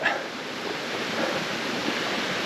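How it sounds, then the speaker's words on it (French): Small stream flowing beside a forest trail, a steady broadband rush of running water, close and continuous with no talking. "c'est plutôt un petit ruisseau qui nous borde là."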